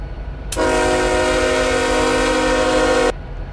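A Canadian Pacific freight locomotive horn in the RO-Scale Sandbox game blares as one steady, loud, chord-like tone for about two and a half seconds, then cuts off abruptly, with no talk over it.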